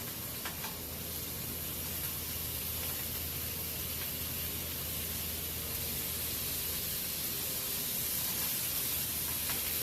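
Vegetables steaming and cooking on a griddle for philly cheese steak, a steady broad hiss that holds evenly throughout with no breaks, moderately quiet, no voices.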